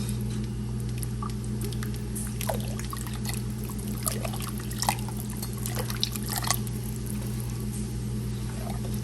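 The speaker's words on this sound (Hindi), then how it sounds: "यहाँ देखें सूप हमारा जो है वो बॉयल होने वाला है।" Chicken corn soup stock heating in a pot nearly at the boil gives off scattered small pops and bubbling ticks over a steady low hum.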